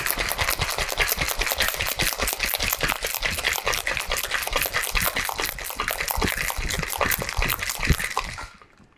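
A bourbon Gold Rush cocktail rattles hard in a shaker, with ice knocking in a fast steady rhythm for about eight seconds before the shaking stops abruptly.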